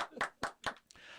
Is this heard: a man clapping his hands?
yes